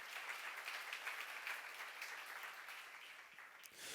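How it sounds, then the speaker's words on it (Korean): A congregation claps together in a brief, dense burst of applause that stays fairly even throughout, fading slightly toward the end, with no voices audible over it. "박수로 하지 그가 복이 있다."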